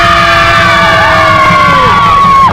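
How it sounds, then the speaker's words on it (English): A girls' team crowds together at a cup presentation after a Carrigtwohill v St Patrick's match, letting out a loud, close burst of shouting and cheering that holds for a couple of seconds, with high whistle-like tones over it. "Okay, 1, 2, 3, big cheer"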